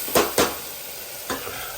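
Food sizzles in a pan as it is mixed. Two quick spoon scrapes come close together, then a softer third stroke follows over a steady frying hiss.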